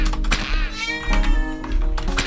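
A cat meows several times up close, drawn-out wavering cries repeating in quick succession over a low background hum.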